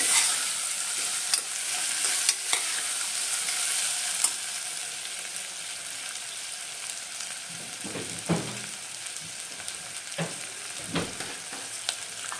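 A dish stirred in a pot over the fire in a village kitchen, giving a continuous frying hiss with scattered scrapes and knocks of the spoon, louder toward the end.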